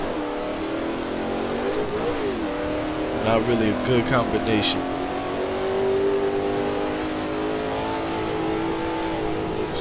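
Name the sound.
V8 race car engine revving in a virtual racing game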